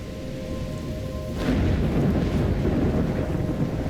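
A thunderstorm in the video game Life is Strange: steady heavy rain hisses throughout, and a loud rumble of thunder swells in partway through and stays on, with no voices.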